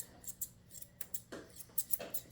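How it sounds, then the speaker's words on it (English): Curved scissors snip dog hair repeatedly at close range, a series of quick, light metallic cuts in an irregular rhythm with no talking. "Curved scissors."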